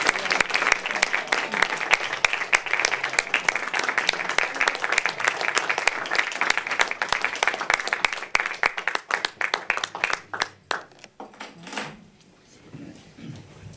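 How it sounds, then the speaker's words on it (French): Sustained applause from a concert audience at a Celtic song performance, a dense, steady roar of many hands clapping that thins out into a few isolated claps before fading into quiet room noise. "Oui, on peut l'applaudir, oui."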